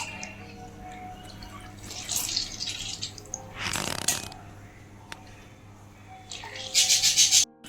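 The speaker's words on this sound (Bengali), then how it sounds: "হাত দিয়ে চেপে চেপে এক্সট্রা জলটা ফেলে দিয়ে" Soaked soya chunks squeezed by hand, with wet squelching and dripping water in bursts, loudest near the end, against a steady low hum and no talk.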